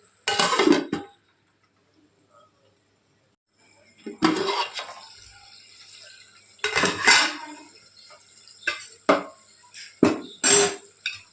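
Mutton keema is stirred in a metal pot with clanks and scrapes, followed after a short silence by a lid being set on. The knocks and clatters are close and come in bursts.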